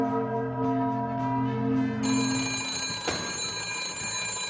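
An old clock chimes the hour on a comedy horror show, ringing tones that sustain and overlap before a brighter struck tone cuts in, with no voices.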